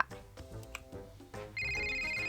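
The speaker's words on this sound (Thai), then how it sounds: "เสียงโทรศัพท์ด้วยค่ะ" A telephone rings inside the Roblox game Hospital Tycoon, a bright electronic tone that starts partway through and holds steady over fainter game sounds.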